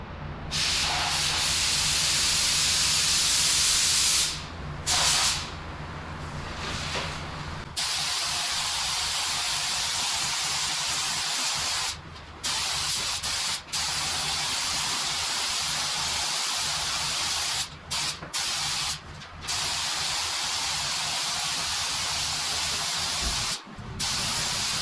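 Spray gun laying down coats of clear over a car bumper cover, a loud steady airy hiss broken by several short pauses as the trigger releases.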